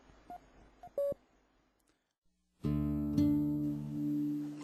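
A phone number is dialed: a few short keypad tones, a brief silence, then a loud sustained ringing or line tone that holds to the end.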